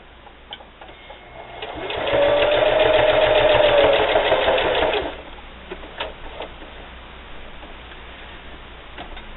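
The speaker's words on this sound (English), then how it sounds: "Now I'm just going to sew right up to that line." A sewing machine stitching a Halloween table topper runs in a steady whirring burst of about three seconds, with ticking clicks before and after as it starts and stops, close and fairly loud.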